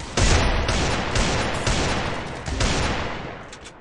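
Gunfire in Garena Free Fire, a loud close burst of rapid shots that fades and then comes back in a second burst, with no talking over it.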